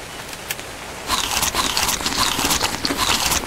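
Rain in the video game ARK: Survival Evolved: a steady, dense crackling hiss of falling rain that starts abruptly after about a second and continues evenly, with no talking.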